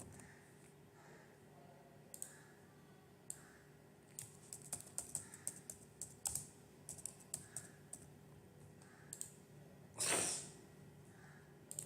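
Computer keyboard typing during a software and cloud setup session: scattered key clicks and short bursts, close and fairly quiet, with a brief breathy snort near the end over low hum.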